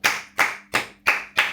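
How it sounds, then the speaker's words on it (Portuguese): Five sharp, evenly spaced hand claps ring out close by in a home kitchen, each a crisp slap with a short decay, with no talking. "Vamos aplaudir!"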